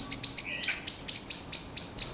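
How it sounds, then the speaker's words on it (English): Blackbirds giving repeated sharp alarm calls in a garden just after a cat attack on a fledgling, about eight rhythmic high chirps in quick succession, fairly close and alone. "This attack has made all the blackbirds scream their alerts together."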